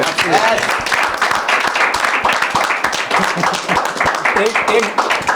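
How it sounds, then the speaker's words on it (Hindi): A small group claps for the IPL during a cricket discussion show, with brisk, uneven hand claps mixed with overlapping voices talking over them. "एक बार इस IPL के लिए ताली बजा दो भाई"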